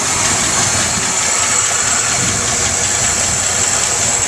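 A 1978 Mercury Grand Marquis engine idles with the rocker arm covers off, a loud, steady close-up rumble with a constant high-pitched mechanical whine and faint rapid ticking.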